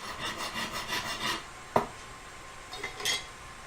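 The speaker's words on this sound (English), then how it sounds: "I like using a nice coarse file. Just hacks into the metal really fast." A coarse hand file rasps quickly back and forth on a small metal collet, a run of rhythmic scraping strokes followed by a sharp clink and a few lighter scrapes.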